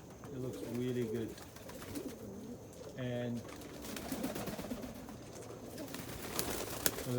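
A tall spangled cock pigeon coos nearby in a loft, a few low rolling coos repeating, with someone talking over parts of it.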